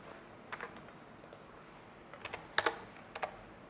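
Keys clatter on a computer keyboard as C++ linked-list code is typed, with scattered short bursts of clicks and a quick cluster near the end, close and fairly quiet with no talking.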